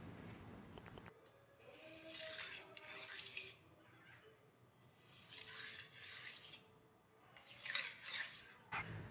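A knife is drawn across the fine side of a whetstone for final polishing and honing, in a butcher's sharpening demonstration. Steady rasping strokes come in close, repeated bursts with brief pauses between them, and no talk.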